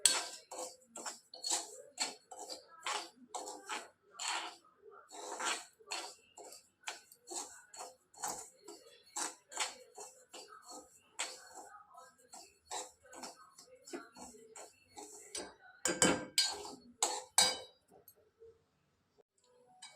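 A spatula scrapes and clinks in a pan as semolina (rava) is roasted for upma. The quiet, irregular taps and scrapes continue for most of the clip and then fall silent.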